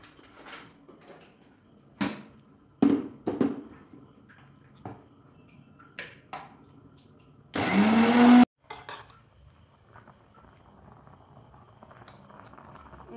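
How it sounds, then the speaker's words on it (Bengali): An electric mixer grinder in a home kitchen roars loudly in one burst of about a second, preceded by scattered clicks, knocks and utensil clatter, then quiet handling sounds. "আমি এটা পিষে নিচ্ছি মিক্সিতে"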